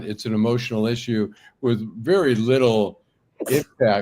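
One sharp sneeze bursts out briefly during a conversation, with people talking before and after it.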